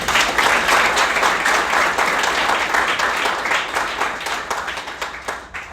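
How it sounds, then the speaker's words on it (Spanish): Congregation applauding loudly during a church service, a dense, sustained wash of many hands clapping that holds steady and tapers slightly toward the end, with no talking over it. "denle un fuerte aplauso al Señor"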